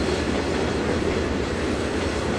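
A train rolling along rails in the simulator Trainz 2022, a steady, loud, continuous rumble with rhythmic wheel clatter and no talk over it.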